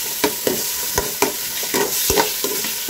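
Pork sautés in a pan with a steady close hiss, punctuated by a regular series of spatula knocks and scrapes roughly every quarter second, no voices.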